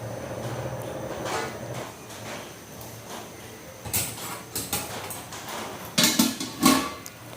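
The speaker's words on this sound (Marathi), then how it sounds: "इथे झाकण ठेवते मी" A lid set onto a cooking pot of simmering ground spice paste for ridge gourd curry, giving a few sharp metallic clinks and knocks near the end over quiet kitchen background.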